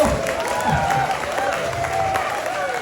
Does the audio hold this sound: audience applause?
yes